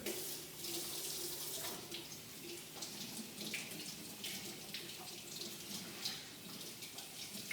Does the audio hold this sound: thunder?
no